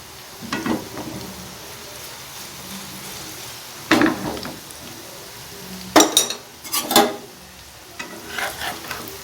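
Prawn fritters (phool chingrir bora) frying in oil over a low flame, with a steady soft sizzle and several scraping, clinking bursts of a spatula or utensils against the pan.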